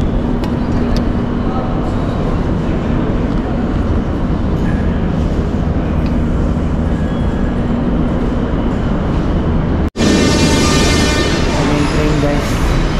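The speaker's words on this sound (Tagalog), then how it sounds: "Yung train, guys, pasok na tayo." Train in a metro station in Tbilisi at night, a loud continuous rumble with low roar and rolling noise, a brief dropout then a brighter screeching tone near the end, with a voice speaking over it.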